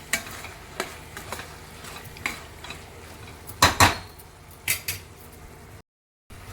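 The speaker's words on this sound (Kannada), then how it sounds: "ಇದನ್ನು ಹಾಕಿ ಒಂದು ನಿಮಿಷದ ಕಾಲ ಚೆನ್ನಾಗಿ ಮಿಕ್ಸ್ ಮಾಡಿ ಚೆನ್ನಾಗಿ ಕುದಿಸೋಣ." A spoon stirs ground masala into capsicum in a metal pan for masala rice bath, with scattered scrapes and clinks against the pan and a faint sizzle underneath, the loudest clatters coming in a short burst partway through.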